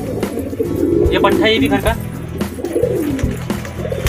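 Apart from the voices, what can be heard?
pigeons cooing while bathing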